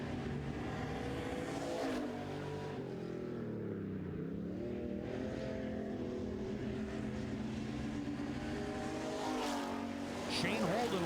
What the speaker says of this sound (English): Shane Holden with about a half-track lead now as he speeds the 11JR into turn number 3.